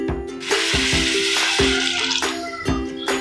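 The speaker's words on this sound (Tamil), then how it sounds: "ஸோ லைட்டாக ஒரு அரை டம்ளர் தண்ணி ஆட்" Half a tumbler of water poured into simmering egg gravy in a pan gives a close, loud splashing and sizzling rush with a few clanking knocks of a vessel against the pan, running continuously without speech.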